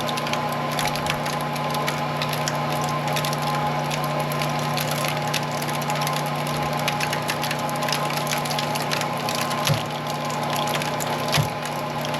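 A hydraulic press on a cold night strains to pull copper windings out of an electric motor stator. It gives a loud, continuous mechanical hum and drone with a few faint clicks and creaks, and there is no talking.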